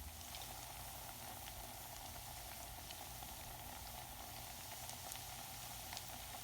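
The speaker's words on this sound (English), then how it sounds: "Put your fritters back into the oil" Chicken fritters fry in hot oil, a dense, even, continuous bubbling sizzle with scattered tiny pops, steady and alone throughout, heard close but at low level.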